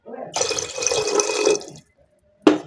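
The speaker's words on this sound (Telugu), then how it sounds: "కొన్ని వాటర్ వేసుకుందాం." Water poured into a cooking pot while making a gram-flour rasam, a steady splashing pour lasting under two seconds, then a brief sharp splash after a pause, close by with no talking.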